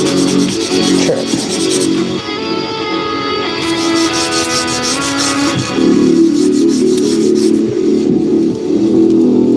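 Steady, loud abrasive rubbing as a tool scours zinc coating off a metal part in a garage before welding, a continuous gritty rasp with a faint ringing hum underneath, carrying on without pause and without talk.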